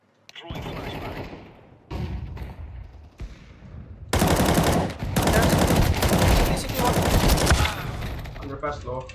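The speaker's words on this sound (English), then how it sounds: "Flashbang. Grenade out. Throwing flashbang." Gunfire bursts and a flashbang in a first-person shooter round, loud rapid shots dense from about four seconds onward after quieter scattered sounds, with players talking over it.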